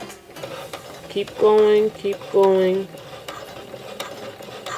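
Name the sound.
sewing machine stitching a dress bodice zipper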